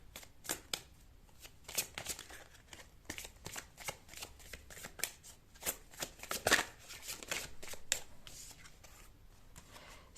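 Tarot cards are shuffled close up, with rapid rhythmic riffles and soft slaps of the deck repeating steadily at moderate volume, and no talking.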